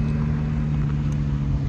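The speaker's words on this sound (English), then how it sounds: "Won the event, lovely R8 coming in." An Audi R8 rolls in at a half-mile roll racing event after its run, a steady engine drone with a deep low hum, close and continuous without any revving.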